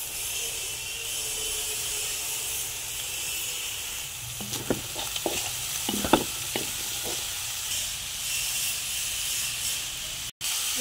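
Sliced carrots stir-fried in a hot pan for pancit bato, a steady close sizzle and hiss with a few sharper scraping stirs of the spatula clustered midway, no voices.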